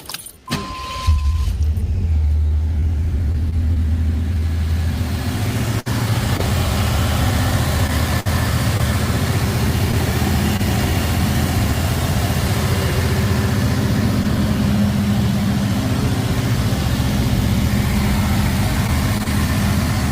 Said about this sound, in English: We'll just hear like some engine noise when they start it up